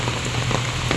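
Heavy rain pours steadily during a typhoon, a dense, close hiss of drops on surfaces with no gaps and no voices.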